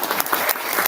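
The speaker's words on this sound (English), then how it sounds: "Hope you clap." Brief burst of audience clapping at a university club general body meeting, dense close hand claps with a few sharper slaps over less than a second.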